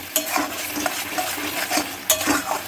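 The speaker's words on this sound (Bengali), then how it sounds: "এই যে আমার মশলা থেকে তেল ছেড়ে দিয়েছে প্রায়, আর একটু কষা হবে" Spice masala sautés in oil in a pan for a fish curry, crackling and sizzling as a spoon stirs and scrapes rhythmically, with a few sharper clacks against the pan.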